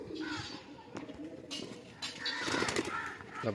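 Pigeons in a loft in Sankrail, Howrah give soft, low coos and rustling sounds, close and fairly quiet, while a person talks faintly nearby.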